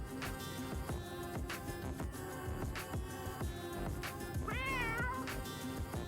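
Cat meowing in the Walkabout Mini Golf video game, Laser Lair course with an Exploding Kittens theme: a single rising-falling meow near the end over busy, steady game music.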